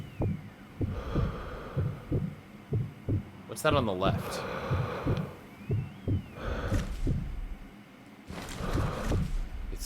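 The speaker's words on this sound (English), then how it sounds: "It's weird that I like hear my heartbeat." Heartbeat from the zombie shooter game Zombie Army, a steady pulsing low thump repeating about once a second throughout, with game effects and a voice talking over it.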